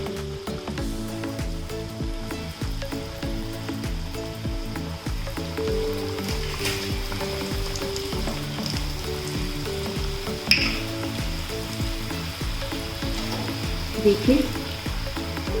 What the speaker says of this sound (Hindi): तो चलिए डोनट्स डालते हैं। इसे हमें मीडियम हीट पर ही फ्राई करना है।